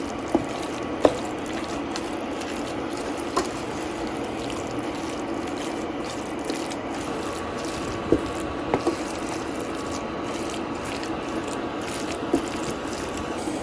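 Chicken mince masala frying in a pan, a soft continuous sizzle with occasional light clicks and taps of a spoon against the pan, fairly quiet and steady with no voice.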